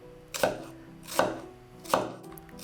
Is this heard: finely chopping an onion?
yes